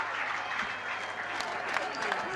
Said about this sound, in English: You can always tell by the applause the relief of the crowd there